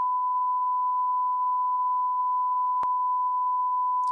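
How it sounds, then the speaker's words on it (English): A continuous steady electronic beep tone holds at one pitch during a voice call, loud and unbroken, with a single sharp click partway through. "Is the rest of this call beeping?"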